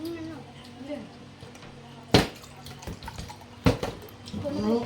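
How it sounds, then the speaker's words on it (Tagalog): Water runs from a household tap in short bursts, with a couple of louder splashes and gurgles, while people talk close by. "Tubig nga eh."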